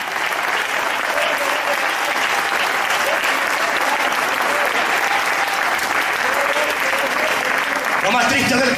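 A church congregation applauds loudly and steadily for several seconds, a dense, close wall of clapping that fades toward the end as a voice begins to speak.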